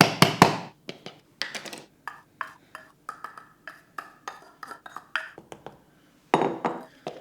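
Cluster dextrin supplement powder being mixed, a rapid series of close, bright clinks and taps of a utensil against a glass or cup, irregular bursts with short pauses between them.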